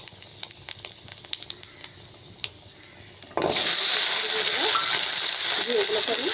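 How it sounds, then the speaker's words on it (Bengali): Sliced taro dropped into hot oil in a wok with salt and turmeric, erupting into a loud, steady, close sizzle that runs on without a break after a few scattered clicks and clatters of preparation. "এই গাঁটি কচুটাকে আমি একটু নুন আর হলুদ দিয়ে এটাকে ভেজে নেব, লাল লাল করে একটু ভেজে নেব"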